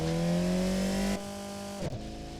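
A car engine in the Automation car-company tycoon video game climbs in a rising tonal whine, then drops sharply as if shifting, with a brief clunk and a lower steady drone afterward.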